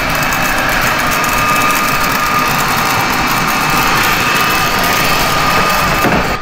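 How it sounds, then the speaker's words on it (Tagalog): A small household robot vacuum cleaner named Zion runs steadily nearby, a constant whirring motor hum with a faint high whine that stays level throughout. "robot vacuum namin kasi pinaglilinis ko siya"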